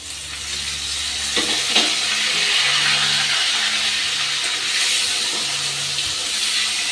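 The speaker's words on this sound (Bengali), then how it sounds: "এবার আমি দিয়ে দিচ্ছি টমেটো কুচি।" Chopped tomatoes dropped onto potatoes frying in a pan, giving a loud continuous sizzle with scraping stirs, close and steady throughout.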